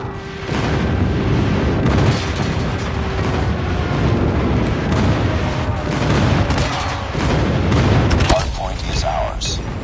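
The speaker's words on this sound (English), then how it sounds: "Friendly airstrike incoming." Dense, sustained rumbling booms from an airstrike in COD Mobile multiplayer, continuous heavy explosions rolling through most of the stretch with a few sharper bursts near the end.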